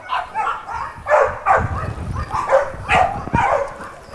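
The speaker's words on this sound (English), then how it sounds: "This is one of our more smaller dogs that we have here for an adoption." Small dog up for adoption at an animal shelter, giving a few short barks and whimpers in a rough rhythm, fairly close and moderately loud.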